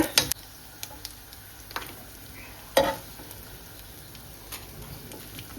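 Dried chillies and curry leaves frying in hot oil, a low steady sizzle broken by a few sharp crackles and stirring scrapes, close by with no voices.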